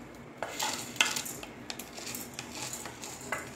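A metal spoon scrapes and clinks against a pan while dry-roasted sago pearls are scooped out, a series of light, close scraping and tapping sounds in a quiet kitchen.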